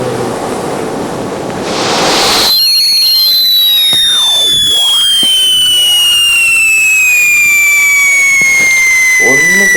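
Diwali fireworks in the Indian Bike Driving 3D video game: a whistling rocket climbs, then loud bursts and crackling fill the air, preceded by a short rush of noise.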